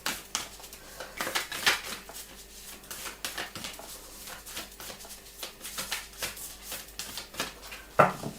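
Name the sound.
shuffling tarot cards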